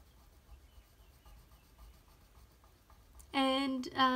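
Soft, faint scratching of a chalk marker moving across cardstock in short strokes, then a person starts speaking near the end.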